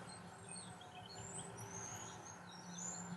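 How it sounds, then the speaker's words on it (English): Small birds chirp outdoors in scattered short, high calls over a steady low background hum, faint and somewhat distant, with no talking. "No, guys, there's definitely birds from my side."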